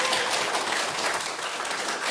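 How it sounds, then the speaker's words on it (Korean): An indoor audience at a political rally gives a big round of applause, a dense continuous wash of clapping holding steady throughout without any voices on top. "다 같이 격려하면서 큰 박수 한번 쳐보겠습니다"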